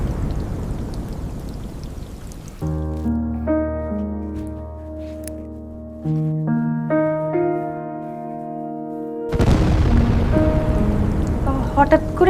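Heavy storm rain on a stormy night, a steady loud rush of downpour at the start and again at the end, with a sustained tonal musical passage in between.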